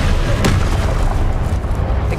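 An Incendio fire-spell blast in the game Hogwarts Legacy makes a dense, loud roaring boom, with a sharp burst near the start and a continuous rumbling wash that fills the short clip.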